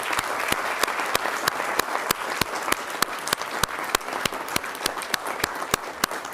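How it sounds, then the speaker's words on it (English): Audience applause for startup finalists at an economic development launch event, a steady crowd wash punctuated by one sharp, regular nearby clapper keeping an even rhythm throughout. "So round of applause for our finalists."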